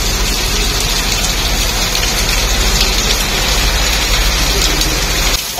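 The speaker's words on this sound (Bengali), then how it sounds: "আর মুষলধারে বৃষ্টি হচ্ছে।" Heavy morning rain pouring down outside a house, a loud dense continuous hiss of drops on surfaces with a faint low rumble beneath, ending in a brief knock.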